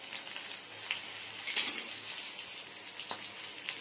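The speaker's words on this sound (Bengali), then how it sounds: "তেলের মধ্যে লঙ্কা জিরে ফোড়ন আর কি দেওয়া হচ্ছে" Chili and cumin sizzle quietly in hot oil in a small kadai, a soft steady crackle with a few faint clinks of utensils.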